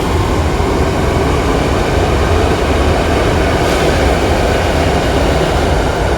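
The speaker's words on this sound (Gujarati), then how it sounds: "હવે જાય છે ઓલી કાશીનાથવાળી ટ્રેન જાય છે" A local train runs past a suburban railway station platform, a constant, close, broad roar of wheels and carriages holding steady throughout with no voices.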